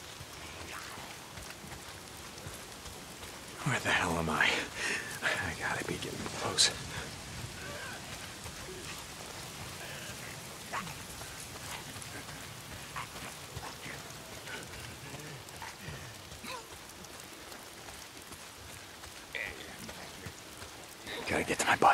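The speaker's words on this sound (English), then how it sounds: "If it's not the freaks, it's the goddamn rain." Rain falls steadily in the post-apocalyptic video game Days Gone, a soft constant patter under a man's muttered speech, with a few louder bursts and splashes standing out.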